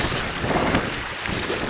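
Wind buffets a microphone on the open moorland of Dartmoor, a loud, continuous roaring rush with no pauses, filling the whole short stretch.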